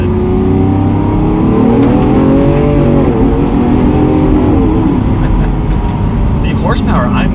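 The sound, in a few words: Lamborghini Aventador SV V12 accelerating from second gear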